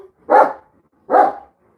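A dog barks twice, two loud, close single woofs spaced about a second apart, with a near-silent indoor room between them.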